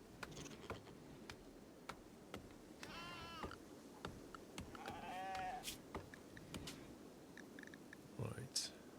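Sheep bleating in the Rimworld video game: two short wavering bleats close together amid soft clicks and faint background sounds, with a quiet voice murmuring in the background.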